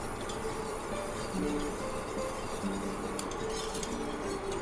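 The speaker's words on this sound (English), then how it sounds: "And just keep stirring this." A mungbean flour and water mixture is stirred in a pot over low heat on a stove, giving faint, steady scraping and light clinking against a soft background hum.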